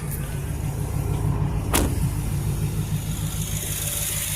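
A 2012 Ford F-150 Raptor pickup's V8 engine idles nearby with a steady, deep rumble and a brief sharp click partway through.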